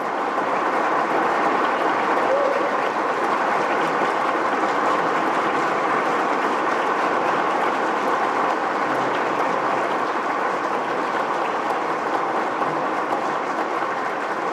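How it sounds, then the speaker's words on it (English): An audience gives long, drawn-out applause as a dense, even wash of clapping that holds steady at the same loudness throughout, with no voices over it. "come on with that long, drawn-out clapping"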